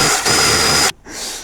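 A power drill boring through the misaligned mounting of a mini-split unit on a box truck, a loud steady whine for almost a second with a brief dip early, then stopping before a softer second burst.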